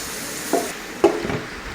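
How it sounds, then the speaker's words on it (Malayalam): Gooseberries being sautéed for pickle in a pan give a soft steady sizzle, with two brief scraping stirs from a utensil against the pan. "നന്നായി വഴറ്റാം കേട്ടോ"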